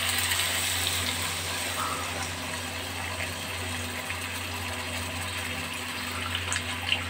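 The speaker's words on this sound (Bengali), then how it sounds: "এবার আমি এর মধ্যে পরিমাণ মতন জল দিয়ে দেবো" Water poured into a pot of potato, papaya and soybean curry, a steady broadband gush running the whole time at moderate level with no talk.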